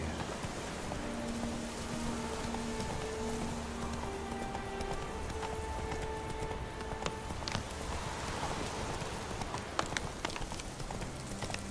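Roach the horse galloping in The Witcher 3, a rapid steady clip-clop of hooves over a continuous rain-like hiss, with faint musical tones underneath.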